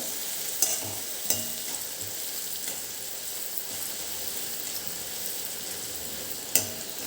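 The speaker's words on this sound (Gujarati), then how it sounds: "પછી એક એકથી દોઢ નંગ જેટલી ડુંગળી એડ કરીશું આને આપણે થોડી સાંતળવાની છે" Chopped onion sautéing in oil with cumin seeds for a Kathiyawadi gotalo, giving a steady close sizzle broken by a few sharp clicks of a spoon stirring against the pan.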